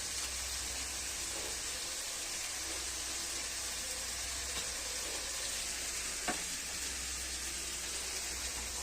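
A pan of vegetable chorchori with garam masala sizzles steadily while it is fried and stirred, a continuous close hiss broken by occasional scrapes of the spoon against the pan.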